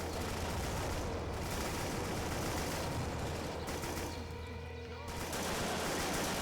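Dense, continuous automatic gunfire fills VietDoom, a Vietnam-themed total conversion of Doom, with overlapping bursts and shots loud throughout and only a slight easing in the middle.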